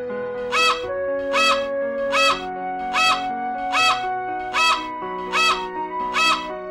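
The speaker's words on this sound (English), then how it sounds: "Flamingo. Flamingo." Flamingo calls from a kids' zoo animal learning game: eight loud, evenly spaced honking squawks repeating over a steady background music bed.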